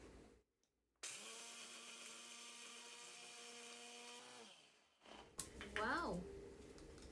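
A Greecho cordless food processor grinds food with a steady, buzzing motor whine that holds for about three and a half seconds before it winds down. Faint handling sounds and brief vocal sounds follow.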